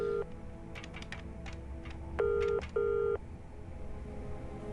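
A telephone rings out unanswered: two clear electronic ring bursts in quick succession, loud and close, following a brief tone at the start, over a quiet background.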